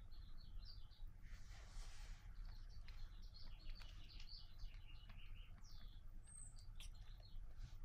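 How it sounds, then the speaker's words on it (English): Baby birds in a nest outside a house give thin, high chirps in quick repeated bursts. The chirping sounds faint and muffled, as if heard from indoors over a soft background hiss. "Do you guys hear those birds?"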